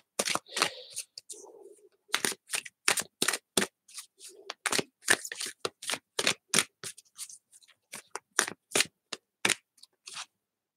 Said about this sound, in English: this is the Earth Magic Oracle deck. I'm just going to be shuffling here.